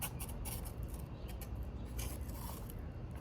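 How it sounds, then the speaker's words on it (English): Quiet, continuous snipping and scraping of scissors slicing through thin headlight tint film, close up, with no talking. "you can get the scissors and cut it perfectly"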